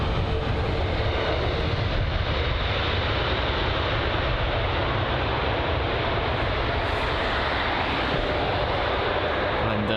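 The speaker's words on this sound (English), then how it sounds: "So the British Airways A321neo" A British Airways A321neo airliner roars steadily and loudly close by at Heathrow, a dense, unbroken engine rush that holds for the whole stretch with no talk.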